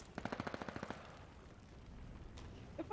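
An assault rifle in a Valorant esports match fires a rapid burst of about a dozen sharp, evenly spaced shots, close and loud, then stops, leaving faint game ambience.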